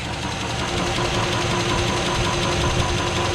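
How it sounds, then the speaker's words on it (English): A truck engine idles steadily up close, a light rapid lifter tick running through the low rumble with no one talking. "this one has a little bit of lifter tick"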